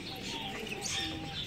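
Fantail pigeons coo softly while moving about and feeding, low faint calls with a few chirps over quiet background noise.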